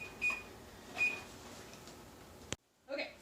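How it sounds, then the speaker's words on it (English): Oven timer beeps, two short faint electronic tones spaced about a second apart over quiet kitchen room tone, then a brief click and a murmur of voices. "Okay, so it beeped"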